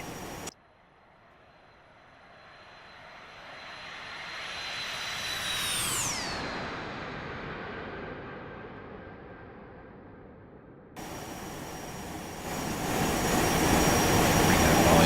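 A simulated Boeing 737-200 jet from X-Plane 11 roars past, with a high engine whine rising and then falling in pitch as it sweeps by. A louder roaring wash follows near the end.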